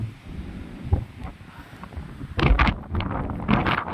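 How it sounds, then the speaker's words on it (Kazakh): A strong blizzard wind gusts across the microphone outdoors in a village, a rough rumbling buffet that grows louder and more turbulent partway through. "Боран. Қатты жел соғып тұр."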